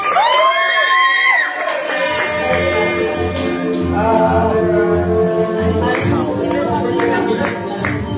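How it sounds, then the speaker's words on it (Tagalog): A crowd at an Aguiluz Hunter International monthly recognition event cheers and whoops loudly, with high shouts at the start giving way to a dense, sustained roar of voices and clapping that carries through to the end. "Palakpakan naman yan!"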